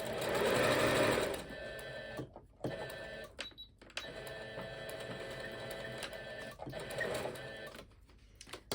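A sewing machine stitches back over coaster seams to reinforce them, running in loud whirring bursts broken by short pauses, close and with no talk.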